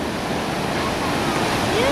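Ocean waves at Stinson Beach: a steady, loud wash of surf with some wind noise over the microphone, continuous and close, with a voice briefly at the end.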